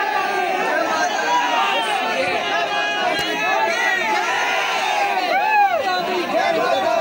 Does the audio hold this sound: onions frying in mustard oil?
no